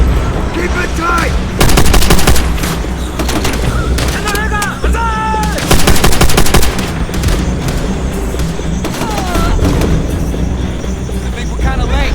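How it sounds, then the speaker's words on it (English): Machine gun bursts ring out from bunkers in Call of Duty: World at War, loud rapid fire in repeated volleys mixed with booms and battle noise, with a soldier shouting over the din. "MG's in the bunkers up ahead!"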